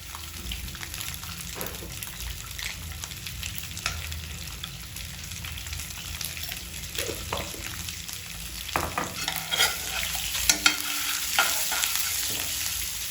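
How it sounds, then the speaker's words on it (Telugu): Spices fry in oil for an egg curry, giving a busy crackling sizzle broken by occasional stirring scrapes, close up and growing a little louder toward the end. "ఆయిల్ వేసి ఇట్లా ఫ్రై చేసుకుంటే బాగుంటుంది"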